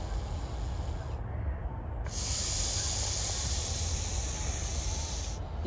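An angry venomous snake hisses loudly and steadily like a pressure cooker, starting abruptly and holding for several seconds against a constant background rumble.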